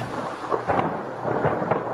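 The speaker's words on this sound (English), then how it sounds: "Yeah, Thunder. You roar." Thunder rumbles through a steady rain, rolling in broad swells that rise and fall over about two seconds, loud and close with no voices.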